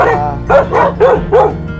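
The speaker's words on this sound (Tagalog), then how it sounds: "Ang ingay na aso!" A dog barks four times in quick succession, loud and close, with a whiny, yelping edge to each bark.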